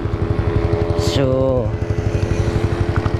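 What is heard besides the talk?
Raider J115Fi motorcycle engine with 30mm throttle body and power pipe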